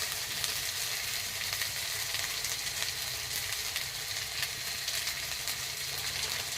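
Potato and eggplant frying in a pan, a dense, continuous close sizzle that holds steady throughout without any talking.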